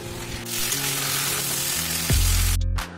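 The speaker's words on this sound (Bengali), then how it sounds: "সব মশলার সাথে এঁচোড় আর আলুটাকে ভালো করে আমি মিশিয়ে নিচ্ছি।" Boiled jackfruit and potato are stirred into fried spices in a pan, a steady close sizzle with a scraping stir, a louder low rumble near the end and a brief clatter.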